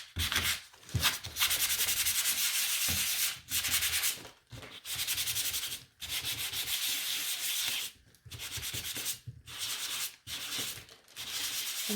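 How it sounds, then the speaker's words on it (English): Hand sanding of a painted wooden spring sign inside a template: repeated rough scraping strokes in bursts separated by short pauses, close and steady, with no talking. "So let's give it a sand."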